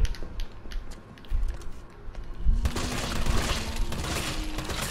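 Gunfire in Resident Evil 3 rattles against a mechanical, creaking game soundscape, with faint shots early on and then a loud dense stretch of blasts and clatter that keeps going to the end.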